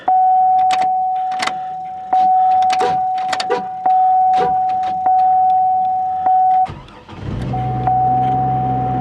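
Chevrolet Trailblazer cranks and fires up after a fuel pump replacement, preceded by a steady electronic chime and clicks from cycling the key, then a rough low engine rumble settling into idle, close and loud.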